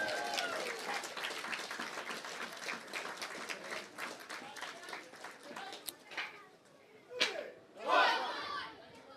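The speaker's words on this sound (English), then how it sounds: "a round of applause for the Greystones School of Taekwondo" Outdoor crowd at a St Patrick's Day parade applauds the Greystones School of Taekwondo, scattered clapping and cheering that thins out, followed by a couple of loud whoops or shouts near the end.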